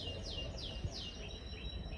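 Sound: birds singing

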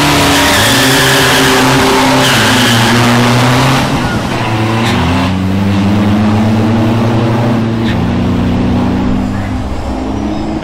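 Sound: racing cargo pickup trucks revving at a Bangkok race event

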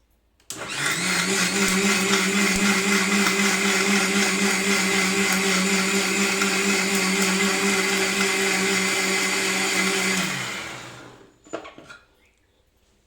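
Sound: mixer grinder blending tender coconut shake

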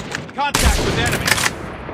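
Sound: gunfire in Call of Duty video game

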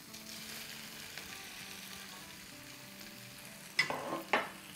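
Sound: bell peppers and onions sizzling as they are stir-fried

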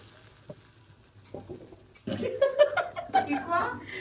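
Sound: fish frying in soybean oil

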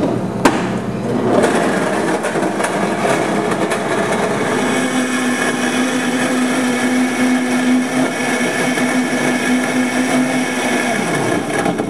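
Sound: blender blending acai, banana, apple juice and soy milk

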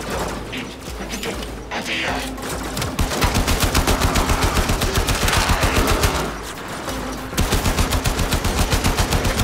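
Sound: pistol gunfire in the video game Warframe

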